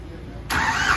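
A Digitrac PP43i 47 HP diesel tractor, 2024 model, cranks over and catches halfway through, breaking from low background noise into a loud, close, steady engine roar.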